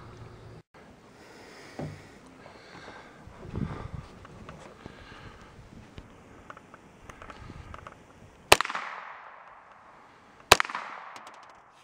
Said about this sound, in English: This is Emma shooting my 22, and this gun is fully loaded with 10 rounds.